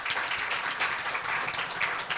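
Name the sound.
audience applause for the speakers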